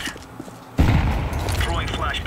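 A grenade detonating in a shooter video game: a sudden heavy boom cutting in after a quiet stretch, followed by a broad rumbling roar that lingers to the end of the moment.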